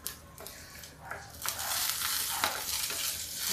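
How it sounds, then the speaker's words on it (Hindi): Cumin seeds crackling in hot oil for an okra dish. A soft sizzle swells into a loud, steady hiss with bursts of crackle and spatter. "जीरा तड़कने लगा"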